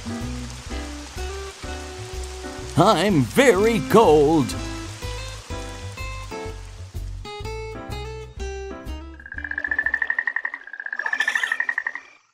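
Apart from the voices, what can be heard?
rain falling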